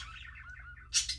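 Pet parakeet giving soft warbling chirps followed by a couple of sharp, bright tweets, faint and close against a low background hum.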